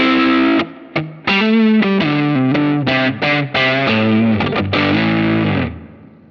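Electric guitar played through a Line 6 Helix Heliosphere reverb effect, loud distorted chords and single notes with shimmering, swelling sustain that rings out and fades at the end, no talking.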